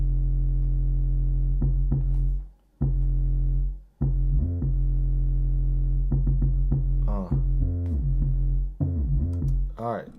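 Synth bass preset run through Native Instruments Supercharger compression and iZotope Neutron: a loud, heavy sustained low bass line with brief dropouts and rhythmic note changes, close and alone.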